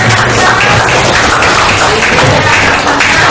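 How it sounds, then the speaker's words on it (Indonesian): A class of students applauding during a lesson, a dense, steady wash of clapping that fills the whole clip at close range. "Tepuk tangan dulu"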